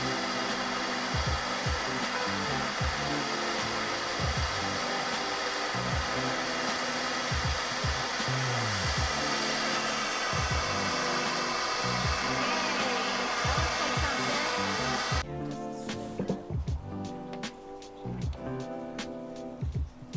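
A torch roars steadily while heating aluminum brazing rods, a continuous loud hiss with a low rhythmic pulsing beneath it, cutting off abruptly near the end and leaving quieter clatter.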